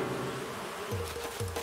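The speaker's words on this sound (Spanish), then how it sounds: "Las avispas." Wasps buzzing in Animal Crossing: New Horizons, a steady, close insect drone with a couple of swooping pitch dips, loud and continuous with no talking.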